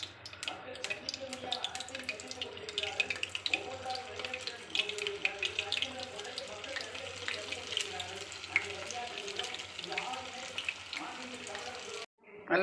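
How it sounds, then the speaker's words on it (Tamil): Potato snack balls frying in hot oil give a steady, dense crackling sizzle with fine bubbling, continuous and fairly close throughout. "எண்ணெய் சூடாகிட்டு ஒன்று ஒன்றா போட்டு எடுத்துடுறேன்."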